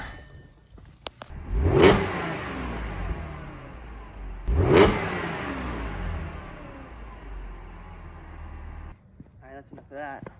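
Supercharged Audi S4 engine revved cold, two sharp rev bursts that swell and fade, with a faint whine and some low background noise between them.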